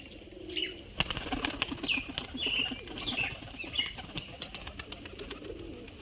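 Sport pigeons, a male and female pair, coo in repeated low rolling calls between soft wing flaps and scuffles, moderately close and fairly quiet, with no talk.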